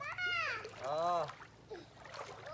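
Children bathing and splashing in water, their high voices calling out and chattering loudly over soft, intermittent splashes close by.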